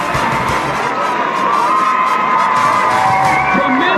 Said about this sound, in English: Listen to this crowd, Tim.